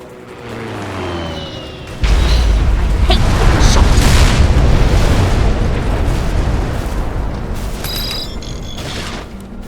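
Air-support explosions in the Mercenaries 2: World in Flames video game: after a quieter start, a sudden loud blast erupts and rolls into a sustained, heavy roar of booming detonations that lasts to the end.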